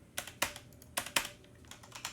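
Fast, uneven keystrokes tapped on a computer keyboard while editing in Unreal Editor for Fortnite, a handful of sharp clicks in quick bursts with short pauses between them, close and fairly quiet, no voices.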